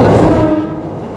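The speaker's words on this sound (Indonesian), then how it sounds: "Persis di atas kita nih keretanya lagi lewat." A commuter train from Manggarai station rumbles loudly directly overhead on an elevated railway, a heavy continuous roar that slowly fades as it passes.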